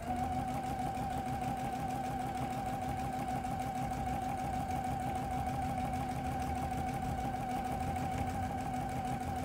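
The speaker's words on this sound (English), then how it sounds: "And now I'm just going to sew my quarter inch seam all the way down to the bottom." A sewing machine stitches a quarter-inch seam in one continuous, steady run, a close and even mechanical whir with a constant pitch and no talking over it.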